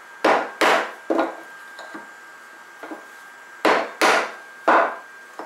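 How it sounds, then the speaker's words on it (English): A center finder is whacked into the end of a wood blank, giving a series of sharp, close wooden knocks in uneven pairs with quieter taps between, and no talking. "just stick it in here like this, give it a whack, turn it 90 degrees, give it another whack"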